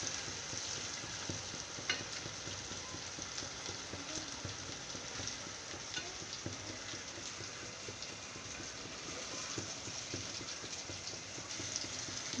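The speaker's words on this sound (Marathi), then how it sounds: "त्याच्या टोमॅटो मस्तपैकी असं तेलामध्ये बघा कसं शिजलेलं आहे." Tomatoes cooking in hot oil in a pan for chicken biryani give a steady, close sizzle with occasional stirring scrapes, even and continuous throughout without any talking.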